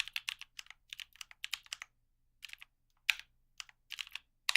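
Keys clatter on a computer keyboard in quick irregular bursts of taps with short pauses between, close and fairly quiet with no voices.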